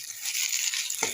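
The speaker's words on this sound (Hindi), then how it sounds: "तो इसे हम 3 से 4 मिनट के लिए अच्छी तरह से फ्राई कर लेंगे" Ground peas fry in a pan with a close, steady hiss and sizzle, and a brief stir or clatter comes near the end.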